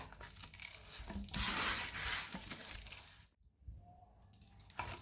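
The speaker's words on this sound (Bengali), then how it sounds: "এরকম করে চিনিটা দিয়ে আমি একটু মেখে নেব ভালোভাবে কষতে।" Wheat dough mixed with sugar for thekua is kneaded by hand, giving close, rough rubbing and tearing sounds in uneven strokes, with a loud stretch early on and a short quiet pause before the work resumes.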